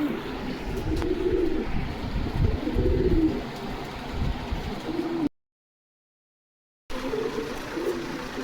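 Fancy pigeons cooing at a pigeon farm in Bogura, a close, continuous layer of soft throaty coos with a faint trickle of water, briefly cut to silence partway through, no talk.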